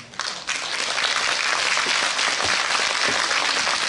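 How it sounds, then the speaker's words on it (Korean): A forum audience breaks into loud, dense applause welcoming a professor to the stage, starting with a sharp burst and holding steady without talk. "큰 박수로 박기영 교수를 모시도록 하겠습니다"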